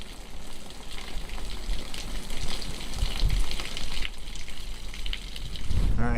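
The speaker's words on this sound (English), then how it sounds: "Wow, that is a lot of water leaking out." Water pouring and leaking out of cabin plumbing, a steady hissing gush that grows a little louder toward the end, heard up close with no talking.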